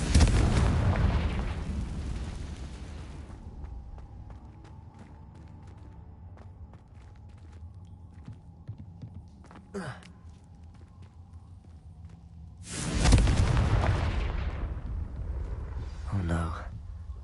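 Two loud fiery blasts from the Confringo explosion spell in Hogwarts Legacy, each a sharp boom that decays into a rumbling tail, separated by quieter ambience with a brief pop in between.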